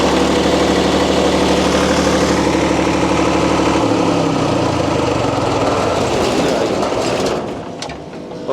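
A freshly repaired generator engine runs loud and steady nearby with a dense, continuous drone, its pitch dropping slightly midway before the sound fades toward the end.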